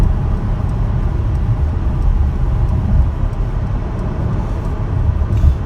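Steady engine and road rumble from a 2020 Mercedes-Benz GLC300 4Matic moving through city traffic, a constant low drone heard from inside the cabin with no talking.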